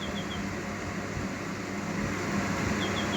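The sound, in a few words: Sunbeam evaporative cooler motor running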